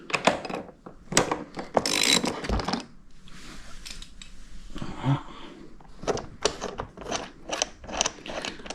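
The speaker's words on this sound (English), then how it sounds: "So we want to undo two bolts either side of the seat." A ratchet undoing the seat bolts on a Honda CRF 300L motorcycle, with quick bursts of close, rapid clicking, a brief pause with a softer mechanical rustle, then more rhythmic ratcheting strokes to the end.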